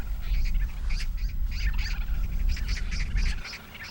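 Magpies and crows chatter harshly while chasing a young eagle, a string of repeated scolding calls over a low rumbling outdoor background.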